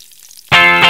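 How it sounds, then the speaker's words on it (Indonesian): Chili spice paste hitting a hot oily pan for green-chili fried eggs, a loud sudden sizzle that bursts in halfway through after near silence and keeps crackling to the end. "Sekarang kita tinggal menggoreng bumbunya."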